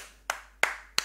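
Three loud, crisp single claps come at an uneven pace with brief silence between them, heard close and alone without any talking.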